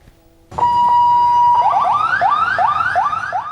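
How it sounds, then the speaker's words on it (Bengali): An ambulance leaves Evercare hospital with its siren blaring, a loud close steady tone that switches into rapid rising yelps, with faint traffic underneath. "এভারকেয়ার হাসপাতাল থেকে সাইরেন বাজিয়ে তড়িঘড়ি বেরিয়ে গেল অ্যাম্বুলেন্স"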